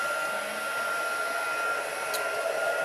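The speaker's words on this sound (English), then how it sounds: "Always heat your heat gun before you use it on your embossing powder" A heat gun runs steadily at full blast, a continuous bright airy roar with no pauses, warming up before embossing powder goes on.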